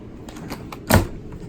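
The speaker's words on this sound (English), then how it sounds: "We got a utility drawer down here." A utility drawer in an Airstream RV kitchen slides open with a short rattling run of clicks, then one louder thump as it stops, close by with no talking.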